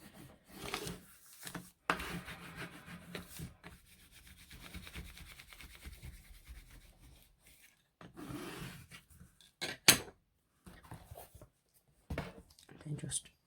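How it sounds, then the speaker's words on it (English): Paper stuck onto a DIY ring binder gets rubbed down firmly by hand, with scratchy, intermittent burnishing strokes at close range and a voice talking over parts of it. "Just give it a good burnish."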